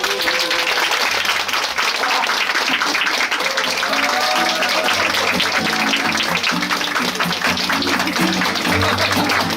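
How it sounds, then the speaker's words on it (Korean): A large crowd at a humanities talk concert applauds to welcome a professor on stage, in dense, sustained clapping that holds steady from start to finish, with faint tones underneath. "큰 박수로 환영해주세요"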